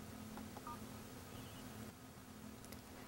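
A Samsung Omnia mobile phone sounds a few short dialing tones, faint and brief against a steady hiss and low hum.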